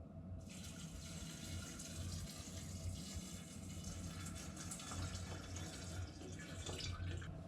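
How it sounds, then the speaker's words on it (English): Pure alcohol pours steadily into a container of homemade pomegranate liqueur, a continuous faint liquid gurgle and splash with no talking, running evenly throughout. "add your half liter pure alcohol"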